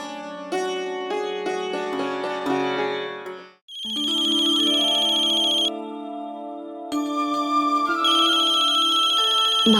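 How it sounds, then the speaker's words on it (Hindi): A mobile phone plays a melodic electronic ringtone, loud and close, with a tinkling tune that breaks off briefly and then resumes with sustained tones, no talk. "माँ का फोन है, मैं बात कर लेती हूँ।"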